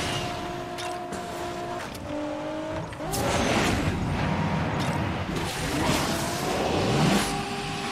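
A Maserati in the racing game Asphalt Legends accelerates hard, its engine note climbing and shifting through gears before surging into a loud, dense roar with a brief tire squeal.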